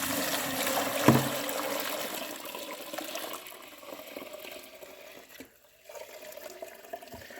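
Water poured off slaked lump lime from a container into another vessel, a thin splashing trickle with a sharp knock early on, fading to quieter dribbles, a brief pause and faint drips.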